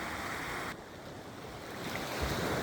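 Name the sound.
sea waves breaking on the shore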